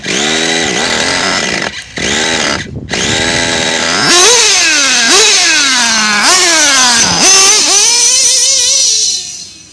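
A small nitro engine running rich, buzzing loudly at idle and then revving up and down in repeated rising and falling sweeps, close and harsh, before dropping away at the end.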